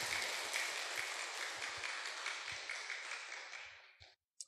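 Sustained applause from an audience at a Buddhist Dharma talk, steady dense clapping that fades out toward the end, followed by a brief tap.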